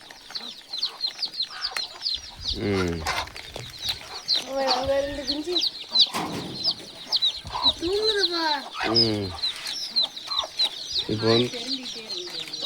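A flock of about 75 young chicks, newly let down to the ground, keeps up rapid high peeping, mixed with repeated clucks from a nearby hen. A person speaks briefly among the calls.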